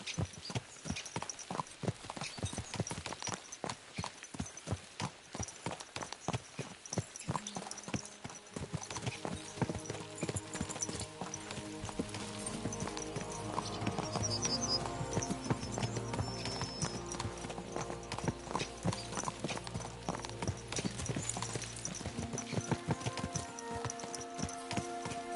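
Horses' hooves clip-clop in the video game Kingdom Come Deliverance 2, a steady rapid rhythmic trot running throughout, joined midway by sustained music underneath.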